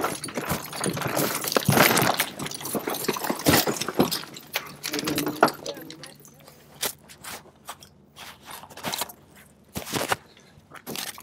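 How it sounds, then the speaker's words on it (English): Car window glass broken by rescuers during a vehicle extrication on a car lying on its side, a rapid series of sharp cracks and crunches at close range, clustered early and then spaced out, with a low engine hum and people talking. "Breaking glass?"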